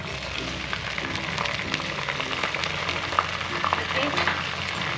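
Ginger garlic paste fries with browned onions in a pot for channa pulao, giving a dense, crackling sizzle with stirring scrapes. The sound is steady and close throughout.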